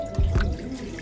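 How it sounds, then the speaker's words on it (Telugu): Water is poured into a pan sitting on a stove, a brief close splash in two quick bursts followed by a softer trickle. "వాటర్ పోసుకుందాం."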